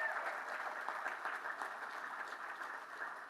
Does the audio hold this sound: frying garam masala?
no